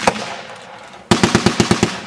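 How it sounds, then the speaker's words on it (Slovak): A Maxim 1910 heavy machine gun fires at a battle reenactment in Nitra: one loud shot, a short pause, then a close, rapid burst of about eight sharp, evenly spaced reports. "Po vašej ľavej strane máte možnosť vidieť ťažký pechotný gulomet, ktorý teraz strieľal"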